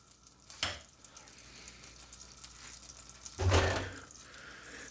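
Tuna melt sandwich toasting butter side down in a pan, giving a steady soft sizzle with a short burst near the start and a louder, fuller surge of frying partway through.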